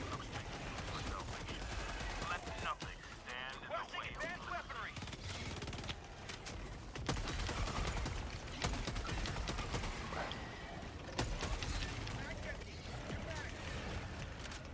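Dense, continuous automatic gunfire in the video game Helldivers 2, rapid crackling bursts layered over game noise and rumble throughout, loud and unbroken.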